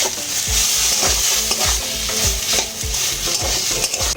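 A spoon scrapes rhythmically through fried masala mixed with boiled potato and kasuri methi, about two strokes a second, over a continuous sizzle in the pan.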